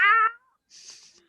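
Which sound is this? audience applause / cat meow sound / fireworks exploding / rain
cat meow sound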